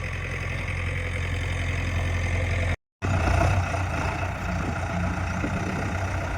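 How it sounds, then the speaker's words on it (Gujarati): A JCB backhoe loader's diesel engine runs at a steady, loud idle, a constant low rumble that cuts out for a brief moment and then continues unchanged. "ચાલુ થઈ ગઈ છે આપણી જેસીબી."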